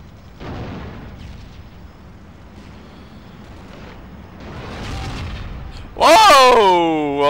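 Rocket explosions in World War Zero Ironstorm: dull, muffled booms roll in at intervals, then a loud sudden blast near the end with a ringing, wavering tail, while someone talks over the scene.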